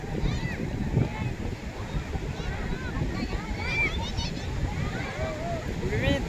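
Ocean waves wash onto Colva beach in Goa in a continuous broad surf hiss, with wind buffeting the microphone and distant voices of people playing mixed into the noise.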